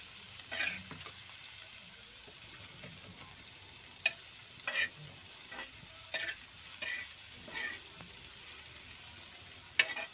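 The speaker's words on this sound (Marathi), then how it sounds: "मस्त तेलात थोडे वाफवून घ्यायचे त्यांना." Bitter gourd cooking in oil in a pan on a village stove, a gentle steady sizzle with sharp intermittent clicks and scrapes from stirring, close and fairly quiet.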